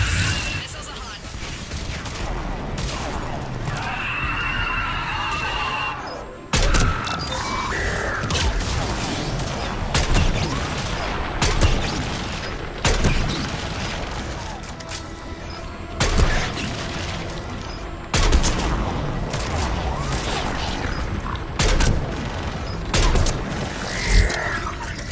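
Missile launches and explosions in Mass Effect 3, combat audio with dense bursts and booming blasts going off repeatedly throughout, loud and continuous, with intermittent talk mixed in.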